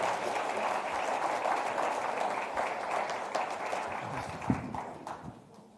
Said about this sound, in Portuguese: Dê uma salva de palmas mais uma vez.